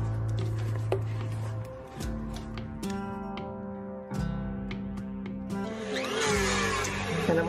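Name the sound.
blender blending pumpkin mousse ingredients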